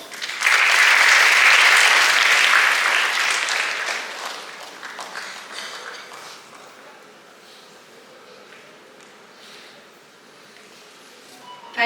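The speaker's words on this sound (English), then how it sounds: "A loud applause to him." A hall crowd at a college graduation day ceremony breaks into loud, dense applause that swells quickly, then thins and fades into scattered claps and room noise.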